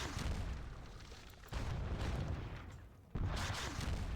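Artillery booms in a Seven Years War video game set at the Battle of Zorndorf: two heavy, rumbling blasts a second and a half apart over a continuous low din, with no talking.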